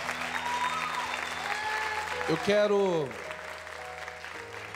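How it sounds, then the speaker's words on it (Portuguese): Audience applause rises at a Catholic community's live concert, mixed with sustained music and a singing voice. The clapping forms a broad, steady wash beneath the tones, which bend and swell partway through. "E vamos aplaudir esse Deus que é maravilhoso."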